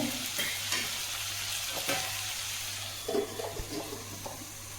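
Cauliflower and chana dal frying in a pan and being stirred, a steady soft sizzle with faint scraping strokes, moderately near, and a few louder stirring scrapes toward the end.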